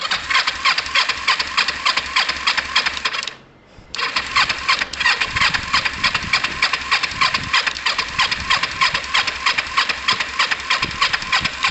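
A motorcycle engine, a Kawasaki ER5 or Yamaha ZL600, with fuel, ignition and choke on, cranks repeatedly in a fast rhythmic churn, pauses briefly, then resumes its steady pulsing loudly and close.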